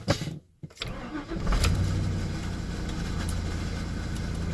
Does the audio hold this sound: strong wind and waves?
no